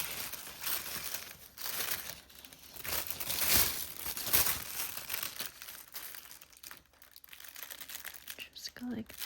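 Tissue paper is crinkled and pressed flat while setting up a junk planner made from a dollar-store notebook, giving soft repeated rustling and crackling bursts close to the listener.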